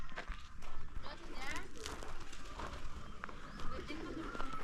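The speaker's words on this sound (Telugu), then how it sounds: "అదా అదా ఇక్కడ చూడండి పావురాలు" Pigeons coo in an animal enclosure that also holds deer and rabbits, in a village near a giant banyan tree. The soft calls sit among busy outdoor noise, footsteps and people talking nearby.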